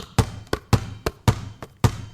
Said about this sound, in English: This is the sound of the ball.